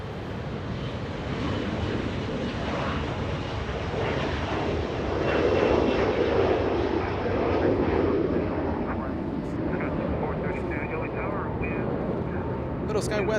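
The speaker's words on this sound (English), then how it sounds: "lifting off flight to Sacramento, California. Little E175, let's go." A SkyWest Embraer E175 regional jet lifts off at Los Angeles International Airport, its engine roar a steady broadband rumble that swells in the middle and holds, with a voice talking over it throughout.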